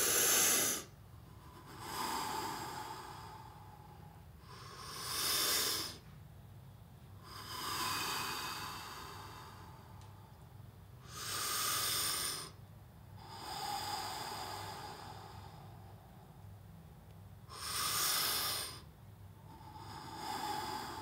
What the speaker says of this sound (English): So this is the Wim Hof method of really breathing.